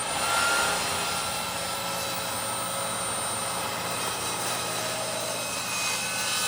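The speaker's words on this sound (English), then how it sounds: "So, back to the table saw." A table saw trims wood pieces for a dice tower down to about a quarter inch thick, giving a steady, loud whirring drone that holds through the whole stretch with no one talking.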